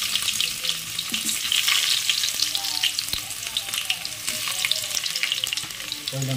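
Chopped onion frying in a few spoonfuls of hot oil for a dum biryani, a steady close sizzle and crackle with occasional stirring scrapes running throughout.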